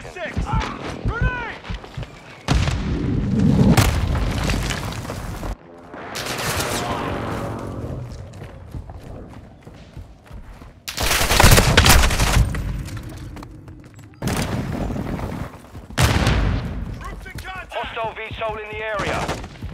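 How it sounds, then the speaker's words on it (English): Bursts of gunfire and heavy explosions from an airstrike in Call of Duty: Modern Warfare II come in loud, dense waves separated by short lulls, with game voices calling out between the blasts. "hostile airstrike near your location."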